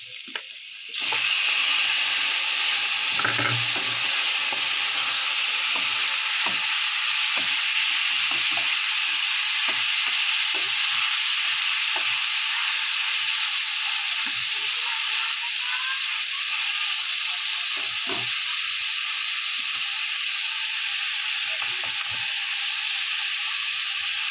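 Bhetki fish fat sizzles steadily in hot oil in a pan, a loud continuous frying hiss with occasional crackles and stirring, lasting throughout with no talking.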